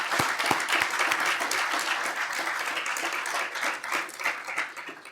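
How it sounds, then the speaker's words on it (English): An audience applauds police captains and staff at a police chief swearing-in ceremony, a steady roomful of clapping that holds throughout at a fairly loud level, with individual claps standing out now and then. "If you would give them a round of applause, please"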